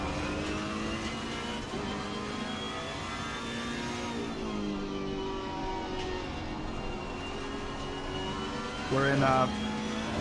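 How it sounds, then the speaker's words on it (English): A Ferrari 488 race car at Monza in the Assetto Corsa Competizione racing game gives a steady, droning engine note that holds throughout, with a short louder burst near the end. A voice talks over it. "488 Ferrari at Monza."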